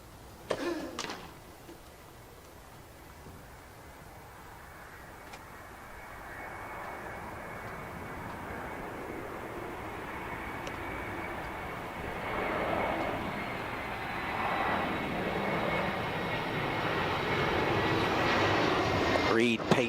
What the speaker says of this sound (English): Fernandez patiently waiting for that airplane to pass by